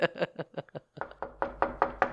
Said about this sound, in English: Hey, someone's at the door.